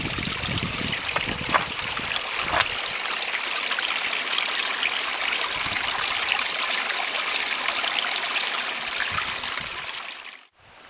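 Water gushing straight out of rocks on a mountain climb, a steady close rushing and splashing like a small stream that runs evenly and then cuts off abruptly at the end.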